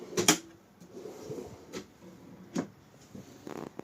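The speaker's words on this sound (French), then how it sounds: "vous avez des beaux tiroirs là" Drawers in a camper van slide open and shut with a few quiet clacks and thumps spaced a second or so apart, close by in a small interior.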